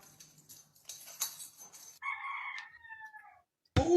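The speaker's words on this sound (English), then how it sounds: "Whose damn chicken is that?" A rooster crows once, loud and close, with a sustained drawn-out call over quiet background noise, ending in a sudden thump.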